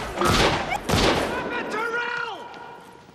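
A burst of gunfire from the movie The Mask: two loud, close bangs in quick succession, followed by a wailing tone that trails off.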